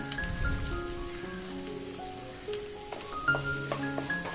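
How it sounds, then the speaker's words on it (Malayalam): Chopped onions sauté in a pan for macaroni masala, a soft, steady sizzle throughout, fairly faint and with no talk over it. "ഇതൊന്ന് വഴറ്റിയെടുക്കാം. ആദ്യം സവാള ഇട്ട് കൊടുക്കാം."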